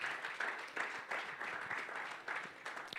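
An audience at a democracy and legal activism forum claps to welcome a speaker: a patchy, moderately faint patter of hands rising and falling in small bursts.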